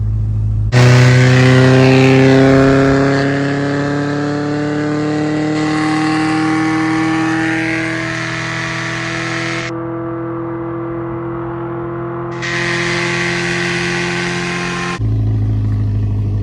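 A Subaru engine revs hard and loud through its modified exhaust, holding a high throaty roar that dips and surges before settling back to idle.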